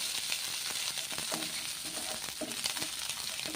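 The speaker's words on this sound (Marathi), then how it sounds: "आता याच्यामध्ये आपण हे फ्राय करून घेणार आहोत" Green chilies frying in hot oil, a dense continuous sizzle with occasional stirring clicks, close and steady, no voices.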